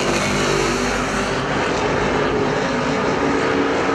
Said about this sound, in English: Doug Kelly beats him down the back straightaway.